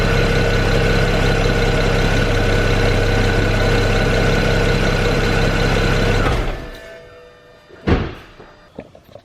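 A BMW N54 engine with about 180,000 miles idles loudly and steadily at close range with a strong low hum, then cuts off abruptly and is followed by a few sharp knocks and thumps.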